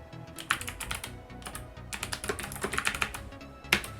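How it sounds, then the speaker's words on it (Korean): Rapid typing on a computer keyboard while entering a Command Prompt command, with irregular bursts of clicking keys close up and a louder Enter key strike near the end. "위와 같이 입력을 해주시고 엔터를 쳐주시면"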